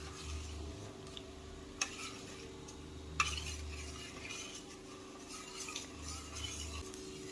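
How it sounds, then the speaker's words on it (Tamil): Soft stirring of a cornflour and water mixture in a bowl, a spoon scraping and swishing quietly through the liquid, with a couple of faint clinks against the side. "இப்போ கார்ன்ஃப்ளவர் மாவு போட்டு கலக்கலாம்."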